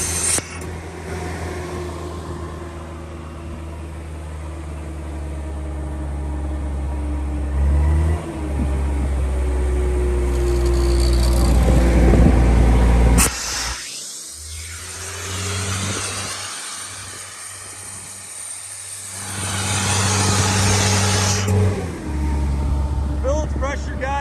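A 2012 Sullair 185CA portable air compressor engine runs steadily with a loud low drone, briefly cutting off and then dropping back to a lower idle, with people talking over it near the end.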